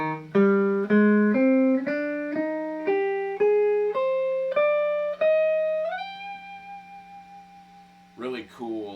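A melodic instrument climbs note by note through a dark five-note pentatonic scale built on root, flat second, fourth, fifth and flat sixth, each tone plucked cleanly over a steady low drone before one long held note and a brief final chord.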